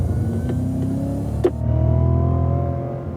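Supercharged V8 of a 2016 Cadillac CTS-V on the Circuit of the Americas track, droning steadily under load as the throttle is fed back in, its pitch climbing smoothly after a brief mid-clip bump, close and continuous with no talk.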